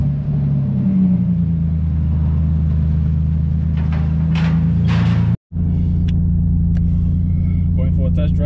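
A single-turbo Nissan 370Z running an E50 ethanol blend idles with a deep, steady engine drone, briefly cutting out before resuming; people talk faintly over it.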